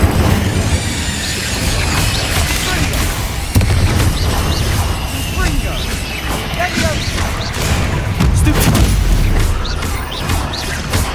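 Hogwarts Legacy spell casting with repeated Incendio and Depulso, a steady run of booms, whooshes and crashing impacts layered over game noise, with a voice calling out spell names throughout.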